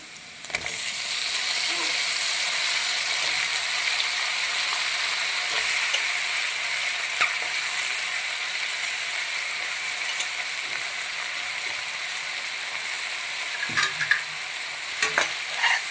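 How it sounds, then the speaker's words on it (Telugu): Eggplant pieces frying in an onion tempering and being stirred, a steady close sizzle broken by scraping stirs and a few sharp knocks, with no talking. "ఇప్పుడు మనకి ఆనియన్స్ వేయించుకున్నాక ఈ వంకాయల్ని తాలింపులో వేసుకోవాలి"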